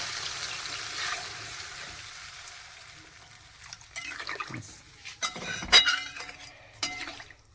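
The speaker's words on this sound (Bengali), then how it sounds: "জল দিয়ে দিচ্ছি।" Water poured into a sizzling vegetable curry in a hot pan sets off a fading frying hiss, then uneven bursts of bubbling sizzle and clinks of a utensil against the pan.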